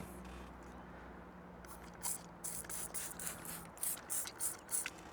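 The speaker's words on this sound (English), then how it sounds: "Give it a spray with your soapy water" A spray bottle of soapy water is squeezed in a series of quick, crisp hissing bursts, roughly seven spritzes in an uneven rhythm after a quiet start, close by and with no talking.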